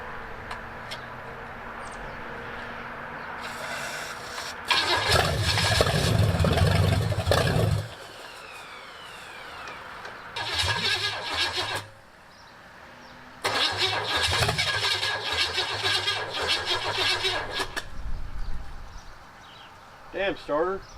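An abandoned Pontiac 400 V8 cranks on its starter in three long bursts of grinding, whirring turnover, loud and close, separated by quieter pauses. It does not catch and fire into a running engine.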